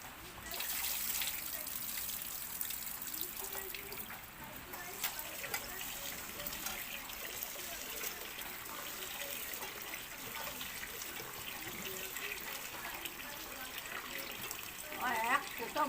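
Steady, constant patter and trickle of rainwater leaking and dripping through a roof during days of nonstop rain, a dense wet wash filling the whole time with faint voices underneath.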